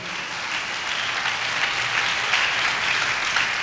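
A church congregation claps loudly in sustained, dense applause that holds steady and slightly builds over several seconds, with no voices standing out.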